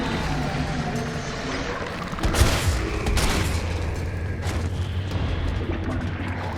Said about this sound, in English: Or we could just shoot a fire grenade at our feet